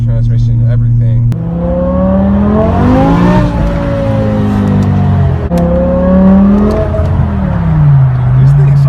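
A BMW E63 M6 with a V10 engine and SMG transmission revs hard and accelerates close by, its pitch climbing, dropping at each shift and climbing again in loud sweeping runs.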